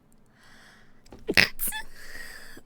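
A person sneezes once, close and sharp, preceded by a faint intake of breath and followed by a quiet exhale.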